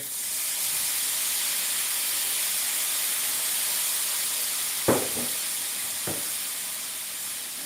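Soy sauce and butter hitting a hot pan of vegetables with Fresno pepper, a steady loud hiss and sizzle with a couple of sharp clatters of the pan or utensil near the end.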